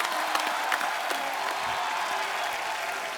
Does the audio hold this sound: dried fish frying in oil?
no